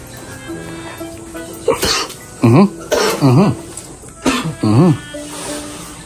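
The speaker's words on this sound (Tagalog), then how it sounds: "Umuubo-ubo." Several harsh coughs in short bursts, fairly close, with voices talking quietly in the background between them.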